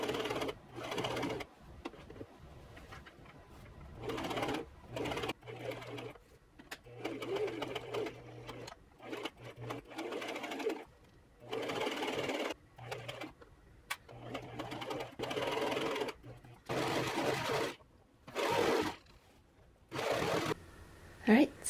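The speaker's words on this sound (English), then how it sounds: "I will trim off the excess and reserge it, I guess, and then and then sew up the seam." A sewing machine stitches the seam of a cotton elastic-waist dress in repeated bursts, each run of steady motor whir broken by short pauses, close and fairly loud with no talking.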